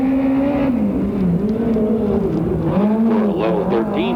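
A USAC midget race car, number 50, runs its lap at a Ventura, California track, its engine loud and steady with rising and falling pitch as it throttles through the turns. Faint voices sit beneath the roar.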